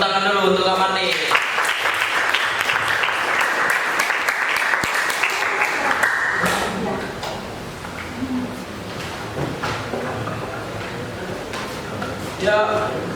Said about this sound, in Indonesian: Tepuk tangan dulu untuk Kak Martin